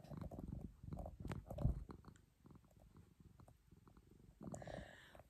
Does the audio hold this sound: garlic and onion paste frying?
no